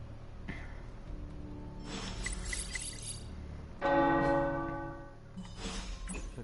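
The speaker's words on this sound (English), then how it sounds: "The tower bells are ringing." Tower bells ring in Marvel's Midnight Suns, with a few sustained resonant peals, fairly faint at first before one louder strike that decays slowly; there is no talking.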